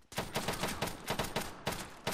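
Rapid gunfire in the military video game Arma 3, a loud, close burst of repeated shots in quick rhythm that keeps going with only a brief pause, with no talk over it.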